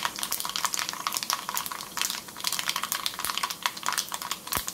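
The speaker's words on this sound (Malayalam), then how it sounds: "അതിനു വേണ്ടി വെളിച്ചെണ്ണ ഒഴിച്ച് കടുക് ഇട്ടിട്ടുണ്ട്" Mustard seeds splutter in hot coconut oil at the start of a tuna chili curry, a dense close crackle of rapid sharp pops and snaps that runs unbroken throughout.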